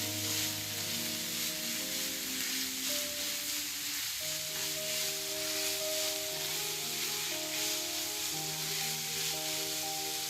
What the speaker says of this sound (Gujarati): 3 મિનિટ જેવું સાંતળજો, એના પછી કેપ્સિકમ એડ કરવાના